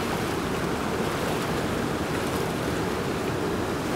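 Creek water flows steadily, a continuous, even rush of broadband noise that holds close and constant throughout, with no voices.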